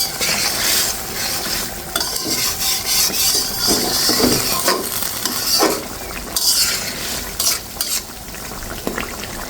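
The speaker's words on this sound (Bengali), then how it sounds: "এখন আমি নেড়ে ছেড়ে দিচ্ছি" A spoon scrapes and stirs through a pan of snakehead fish curry in a mustard-oil chili gravy, with hot water just added; rubbing strokes and bursts of sizzle come up close and loud, without speech.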